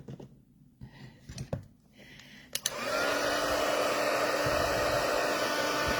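A heat tool blows steadily, starting after a few soft handling noises and running continuously at a loud, even level while it melts copper embossing powder on a stamped papercraft project.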